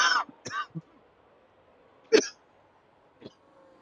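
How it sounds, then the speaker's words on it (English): Short, sharp coughs, a couple of quick ones, then another after a pause and a faint one at the end, with quiet in between. "It's made me cough."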